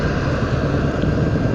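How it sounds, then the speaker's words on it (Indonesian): Loud, rumbling exhaust from a vehicle on a one-way city street in Medan, Indonesia, a steady coarse drone that holds at full volume throughout. "Wah, knalpot kawan itu cukup bising ya,"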